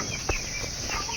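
Chickens in a coop on a poultry farm give off faint, sparse rustles and brief wing flaps against a quiet background, with a single short sharper sound near the start.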